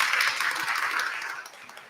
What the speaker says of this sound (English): And please give yourselves a very deserved round of applause for your questions.